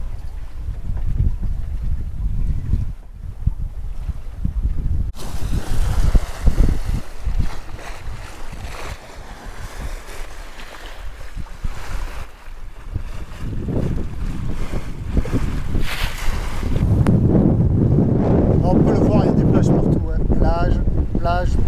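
Sailboat under mainsail in the British Virgin Islands, heading out past a reef from Gorda Sound: steady wind buffeting and rushing water run throughout, growing louder and fuller toward the end.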